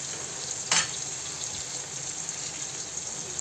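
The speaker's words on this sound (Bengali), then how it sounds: "আজকে আমি চিংড়ি মাছ ভাজি করব" Shrimp frying in a pan with onions gives a steady, close sizzle, and a single sharp stirring scrape cuts in early, with no talking.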